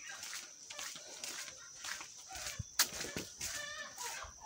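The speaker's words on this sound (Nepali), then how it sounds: "आमा, कुखुरा पक्रिँदै हुँदो रहेछ।" Chickens cluck and squawk in short uneven bursts while one is being caught in a rural yard, with scattered thumps of movement nearby.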